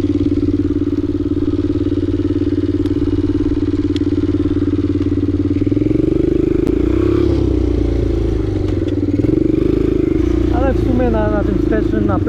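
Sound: Bombardier 125 quad engine running

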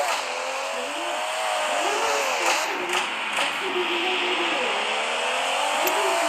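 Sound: Ferrari car driving past in Roblox video game

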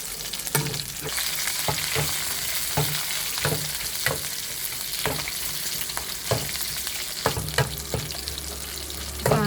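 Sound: spices sizzling as they temper in oil

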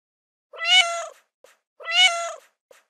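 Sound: cat meowing

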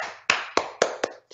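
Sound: hand clapping demonstrating applause

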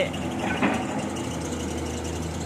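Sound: Kobelco SK200-6 excavator six-cylinder engine idling

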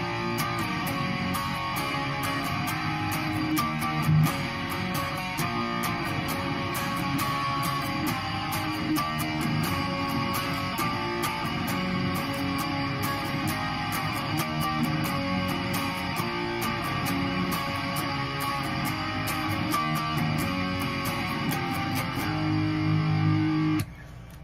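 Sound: distorted electric guitar playing the chorus

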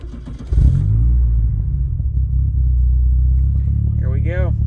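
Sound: classic car engine cranking and starting

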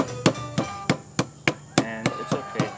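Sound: pounding food flat under plastic with heavy frying pan

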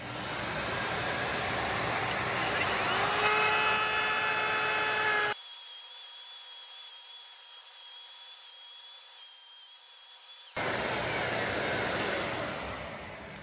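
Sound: router cutting a Strat-style guitar neck pocket

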